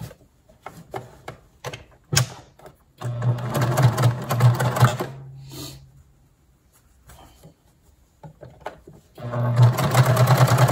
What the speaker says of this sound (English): now we're gonna sew the other side down